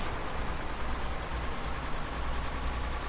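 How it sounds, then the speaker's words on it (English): A rain storm in Euro Truck Simulator 2 hisses steadily and densely, with a low engine-like rumble underneath and no voices. "Yeah, so now it's storming."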